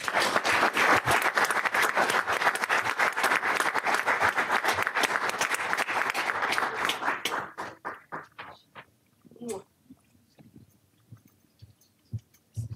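Sustained audience applause welcoming a guest speaker at an annual public hearing, dense and loud for about seven seconds, then thinning to scattered claps as the room settles.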